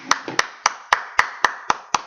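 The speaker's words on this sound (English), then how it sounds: "Keep clapping." Steady rhythmic clapping at an indoor talk on anxiety and stress: about eight sharp, evenly spaced claps roughly a quarter second apart, close and crisp, with no talk.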